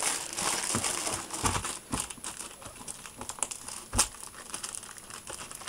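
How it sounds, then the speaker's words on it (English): Plastic wrapping on a magazine crinkles and tears as it is pulled open, a steady close rustle with sharper crackling bursts, alone without talk. "So let's get this magazine open."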